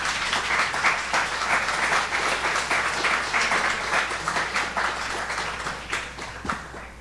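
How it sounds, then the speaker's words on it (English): Audience applause welcoming a poet at an indoor poetry event: dense, sustained clapping from a sizable crowd, loud and even throughout, easing slightly near the end. "Please give a round of applause for Marie Howe."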